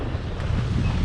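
Strong wind roars across the microphone aboard a sailboat in 17 knots of breeze, a dense, steady rush close up with water and hull noise blended in and no voices.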